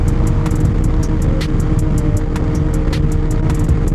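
A car passing on a highway beside a motorcycle, heard from the moving bike as a steady loud roar of road and wind noise with a continuous engine drone throughout.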